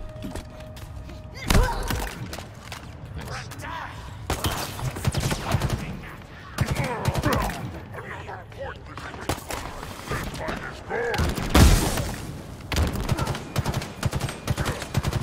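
Sustained automatic gunfire from a held trigger in Halo Infinite, bursts of rapid thudding shots layered with impacts and game effects, moderately loud, with a voice talking over parts of it.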